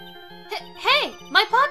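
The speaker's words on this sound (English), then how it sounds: "Hey, my pocket's ringing." Cell phone ringing inside a pocket in the video game Apollo Justice, a bright chiming melody of rising tinkling tones over a low steady hum, fairly loud and close with no voices.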